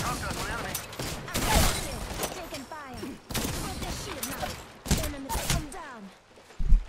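Rapid bursts of gunfire in a ranked arena match of the Apex Legends video game, sharp repeated shots in clusters with a louder final blast, under game voice chatter and radio callouts.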